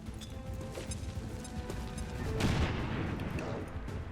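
A grenade blast in the turn-based strategy game XCOM 2 Long War 2, a loud crashing explosion midway over a busy layer of game sound effects, followed by a rumbling tail.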